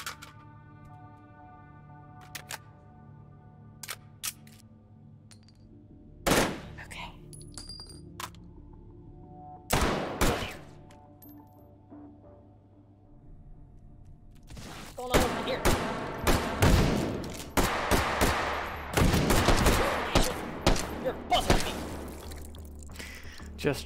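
MP9 submachine gun fire in the VR game Hot Dogs, Horseshoes & Hand Grenades, Take & Hold mode: a few sharp isolated shots early, then rapid loud bursts with metallic clinks like casings dropping in the second half.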